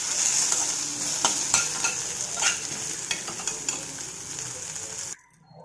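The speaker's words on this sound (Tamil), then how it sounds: "இங்கே பாருங்கள், நல்லா வறுத்து வச்சுக்குவோம்." Drumstick leaves (murungai keerai) fry and crackle in a pan, a steady close sizzle broken by repeated scraping stirs, then cut off abruptly near the end.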